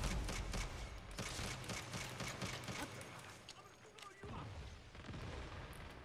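Rapid gunfire and booming shots in the video game Saints Row, dense and continuous under a busy mix of game sounds.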